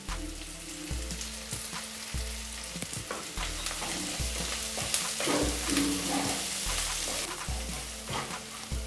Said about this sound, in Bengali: পেঁয়াজ ভাজা হয়েছে।